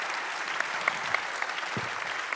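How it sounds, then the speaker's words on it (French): A seated audience at the UPE 2014 general assembly breaks into steady, sustained applause, a dense wash of many hands clapping with a few sharper claps standing out, continuing evenly through the moment. "On peut vous applaudir, vous restez avec nous."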